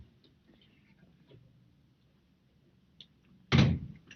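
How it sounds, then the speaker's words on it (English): A door being opened in a 1938 film scene, faint shuffles and small knocks leading to one loud, close thud near the end. "I shall have to ask you to open the door."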